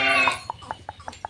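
On a sheep farm in Telangana, a goat bleats once loudly at the start, followed by a series of faint, short, evenly spaced calls or clucks in the background.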